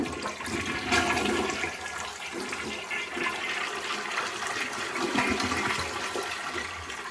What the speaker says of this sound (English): And that's a nice flushing toilet.